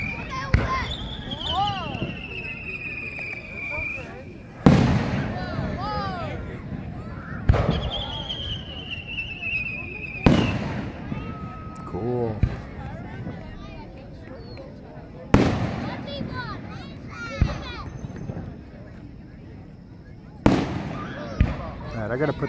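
Fireworks bursting every few seconds, sharp loud explosions followed by crackling and whistling trails, with voices talking throughout.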